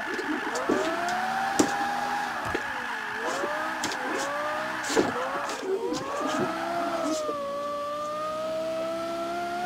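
A car lapping a circuit with its engine revving up and down in repeated surges and gear shifts, loud and close, with brief tire noise between pulls.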